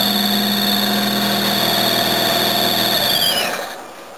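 A warm NSU car engine runs with an odd, steady whining hum and even mechanical drone close by, then dies away during the last half-second.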